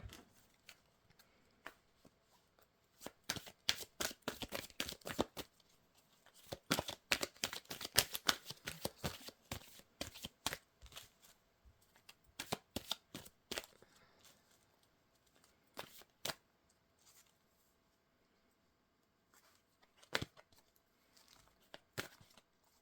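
Cards from a spirit oracle deck shuffled and drawn, giving bursts of crisp flicking and riffling taps, densest in the middle, then sparse single snaps, close and fairly quiet with no talk.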